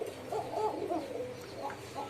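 A pigeon cooing, soft low throaty coos repeated a few times, near and fairly quiet, with no other sounds around.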